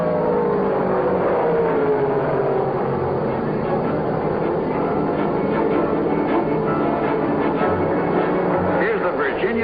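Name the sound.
modified race cars at Martinsville, Ford Falcon spinning out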